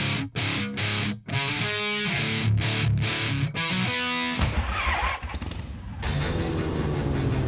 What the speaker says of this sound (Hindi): अपनी बाइक को किक देकर।